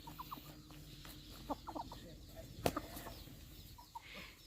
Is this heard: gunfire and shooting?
no